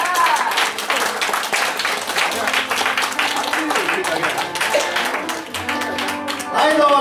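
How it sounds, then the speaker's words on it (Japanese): An audience applauds after a blues band finishes, with steady clapping that carries through the whole stretch while a voice speaks over it and some residual tones linger. "もう一度盛大な拍手"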